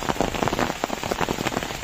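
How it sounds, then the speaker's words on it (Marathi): Heavy rain pours down during a visit to a village temple in the Konkan, a dense, steady hiss of drops drumming on nearby surfaces with no voices over it. "आता बघा पाऊस बघा, खूप पाऊस आहे"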